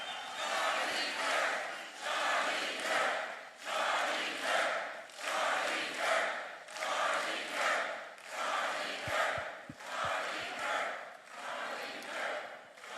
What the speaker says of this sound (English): I want everyone to raise them up and cheer for Charlie.